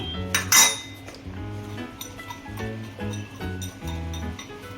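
A steel plate clatters against a pan of hot-oil-fried chillies as it is placed over them and flipped, loud metallic clanks followed by lighter rattling and clinking, close up.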